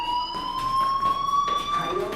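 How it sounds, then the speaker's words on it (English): A school fire alarm in the video game Life is Strange rings as a steady, loud electronic tone with bright harmonics, pulsing slightly throughout. "do you hear that fire alarm? That means you should be outside."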